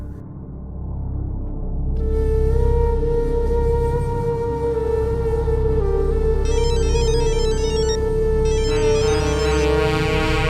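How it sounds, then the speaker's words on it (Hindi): A phone rings with a steady electronic tone that sustains throughout, loud and close, with a brief warbling pattern layered in later. "मुकेश बार बार फोन क्यों कर रहा है मुझे?"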